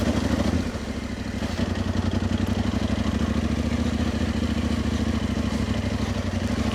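Motorcycle engine running steadily as the bike rides uphill, a continuous loud mid-pitched drone with rattling texture throughout, no talk.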